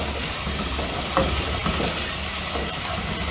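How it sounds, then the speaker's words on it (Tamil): Tomatoes sautéing in a pan for a kadappa gravy, a loud steady sizzle with occasional stirring scrapes and soft knocks, close up and without speech. "தக்காளி போட்டு இப்போ வதக்குறோம்."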